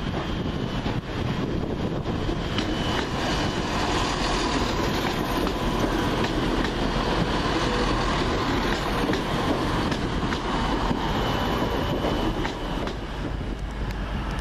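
A London Midland service departs Wolverhampton station on its run from Shrewsbury to Birmingham New Street, passing close with a loud, continuous rumble and rolling wheel noise, buffeted by wind across the microphone.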